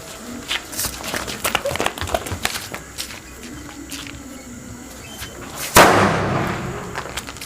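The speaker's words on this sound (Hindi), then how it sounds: "अबे फटाका तो हाथे में फोड़ दूँ।" A firecracker bursts with one sharp, loud crack near the end, set off in a person's hand during Diwali in Chhattisgarh, after scattered crackling, rustling and background voices.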